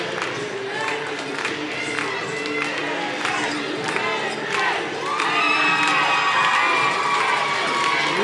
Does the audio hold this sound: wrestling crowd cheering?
yes